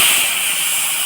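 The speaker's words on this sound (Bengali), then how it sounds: "শাকটা এবার ঢেলে দেবো।" Bathua greens hit hot oil with fried bori and garlic in a pan, giving a loud, dense, steady sizzling hiss that fills the short moment without any talking.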